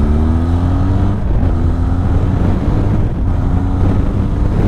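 A Benelli TRK 502 X motorcycle engine drones steadily while riding, a loud continuous hum with a low tonal note that shifts pitch slightly, mixed with heavy wind rush across the microphone.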